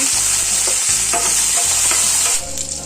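Curry leaves fry in hot oil for a coastal-style chicken gravy, giving a loud, bright, continuous sizzle that stays close and strong, easing off slightly near the end, with no talking.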